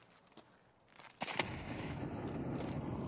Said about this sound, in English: That was a good nade.